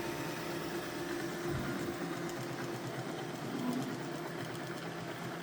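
A 3D-printed rotor spins fast with a steady mechanical whir and faint rattling hum, moderately quiet and continuous, with no voices.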